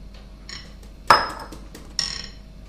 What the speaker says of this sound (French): Je fouette.